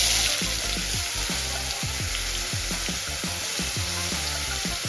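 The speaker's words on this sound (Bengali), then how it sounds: "এবার আমি গাজরটা ভালো করে ভেজে নেব।" Carrot paste frying in ghee with cardamom for carrot halwa, a steady loud sizzle broken by regular scraping and stirring strokes, close up with no voices.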